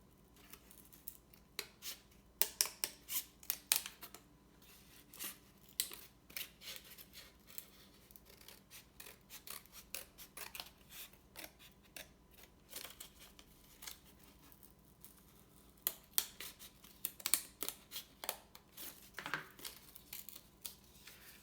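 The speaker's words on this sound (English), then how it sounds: "if you don't have one, you can do it with scissors, as I just proved" Scissors cut cardboard along a marked line, producing quiet, crisp snips and crunching tears in irregular bursts with short pauses between them.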